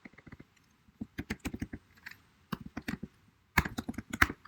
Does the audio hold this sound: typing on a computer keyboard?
yes